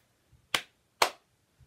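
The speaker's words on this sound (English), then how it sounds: "We're going to start with a clap." Two crisp hand claps, close and evenly spaced about half a second apart, each sharp with a quick fade, alone in an otherwise quiet room.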